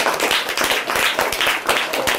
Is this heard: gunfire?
no